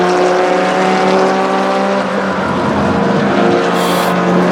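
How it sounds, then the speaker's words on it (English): Touring race cars run a formation lap at Sonoma Raceway, a loud, sustained engine drone with steady harmonic tones as several cars pass close by, with no talking. "we can see the rest of the cars coming down the field"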